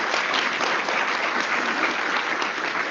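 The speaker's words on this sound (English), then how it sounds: "let's have a big round of applause for our judging panel." Audience applause for a judging panel at a university research presentation final, a dense steady clapping from a large crowd that holds evenly throughout without talk.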